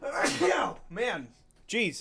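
A single loud sneeze bursts out close by, followed by a man's short spoken mutter.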